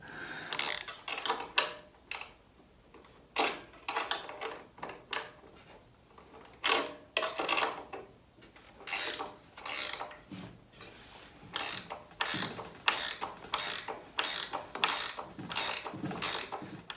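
Wrench tightening bolts on a sawmill motor plate mounted to a beam, heard close up as repeated bursts of rapid ratcheting clicks separated by short pauses, with no talking.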